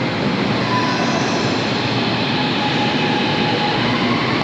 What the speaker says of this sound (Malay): Ini di Putra Height, stesen LRT Putra Height.